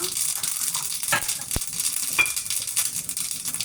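Mustard seeds, cumin, crushed garlic and curry leaves crackle and sizzle in hot oil for a sambar tempering, a steady close hiss with a few sharp pops and light stirring.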